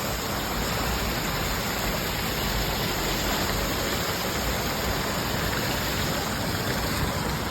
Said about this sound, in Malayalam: അങ്ങനെ വെള്ളം പോണു ഇപ്പൊ ഒരു ചെറിയൊരു തോടാ